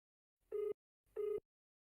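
A phone call rings out while waiting for pickup, two identical electronic ringback tones, each lasting under a second with a short pause between, clear and steady with no voices.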